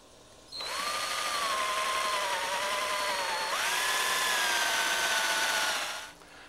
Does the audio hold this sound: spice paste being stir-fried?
no